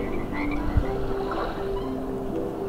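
A frog croaks in a steady, close, low-pitched chorus of repeated calls over a murmuring outdoor background.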